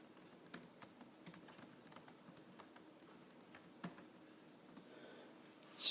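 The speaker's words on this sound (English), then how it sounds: "I'm typing it in." Soft, quick clicking of computer keys typed at an irregular pace, quiet and close, with one slightly louder tap near the end.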